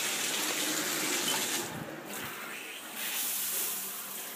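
A shower running cold water only, a steady hissing gush of spray that briefly dips and thins in the middle before returning at full force.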